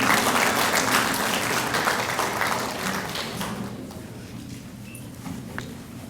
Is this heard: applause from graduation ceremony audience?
yes